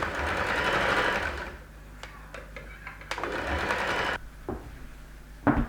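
A sewing machine stitches fabric close by in a steady whirring run, then several short bursts with clicks and pauses, ending in another brief burst.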